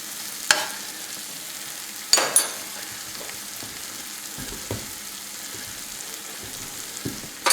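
Peanuts frying in a pan for a chicken ramen dish, a steady soft sizzle running throughout with a few sharp clicks and pops of stirring breaking through.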